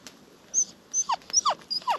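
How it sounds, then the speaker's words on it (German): Puppy hung in a backpack from a tree branch, whimpering in a series of high, thin whines and short yelps, close and clear against a quiet outdoor background. "was hier aussieht wie Tierquälerei, nämlich unser Welpenhündchen Ava im Rucksack an einen Baumast zu hängen"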